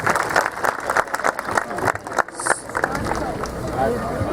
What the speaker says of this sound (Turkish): Sayın Bakanımıza bir teşekkür etmek için çok alkış istiyorum